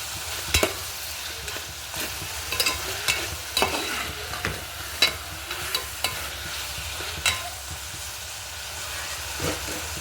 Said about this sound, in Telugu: టమాటాలు పచ్చిమిరపకాయలు ఒకసారి తిప్పుకుందాం